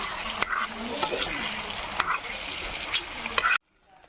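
Pork and spices are stirred in a pan without oil, a close scraping and sizzling with a few sharp spatula knocks that stops abruptly into near silence.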